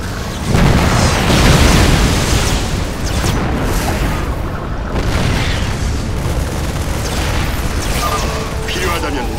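Missile launches and explosions in StarCraft II, Heart of the Swarm campaign: heavy, loud booms and rumbling blasts that continue throughout, with a strongest burst early on, under game voice talk.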